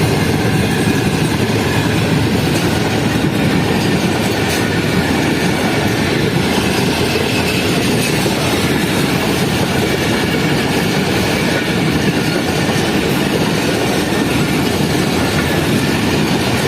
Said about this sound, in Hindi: यानी कि फाइनली एक हमें थ्रू पास एक्शन यहाँ पे देखने को मिलने वाला है।